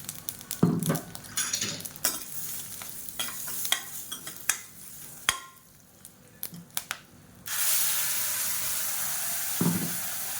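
Ground kara chutney goes into hot tempering with asafoetida in a kadai, giving an abrupt loud sizzle that holds steady, after earlier clinks and scrapes of a spoon against the pan.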